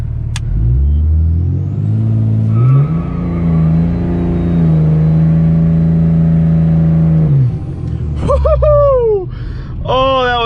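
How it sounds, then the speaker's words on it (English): Tuned diesel pickup truck trying a burnout, its engine revving hard and holding a high steady drone before dropping off, followed by rising and falling revs; loud and close, with a voice briefly audible. "It doesn't seem to want to do a burnout."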